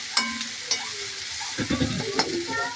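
Onion, garlic and masala chutney being stirred in a hot pan, with a spoon scraping in short irregular strokes over a steady, close sizzle of frying.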